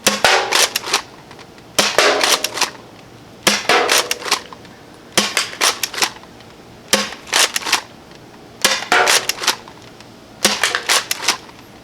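Bursts of rapid air gun shots crack at close range as bottle targets are plinked with a Nexus Pro fitted with 3D printed upgrade parts, quick clusters of sharp pops separated by short pauses, loud and without talk.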